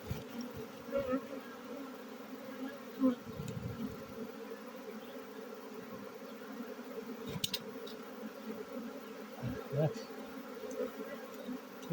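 Honeybee swarm buzzing around a hive after being collected from a poplar treetop, a dense continuous drone with individual bees passing close, outdoors.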